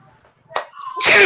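A single sharp sneeze bursts out over a quiet room during a gaming podcast, loud and close, followed by a brief breathy trailing noise.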